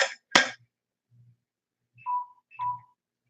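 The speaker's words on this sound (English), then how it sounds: "Oh, my phone's dying." A short electronic phone alert plays twice, a brief two-part chirp with a clear tone, after a few soft clicks and knocks in a quiet room.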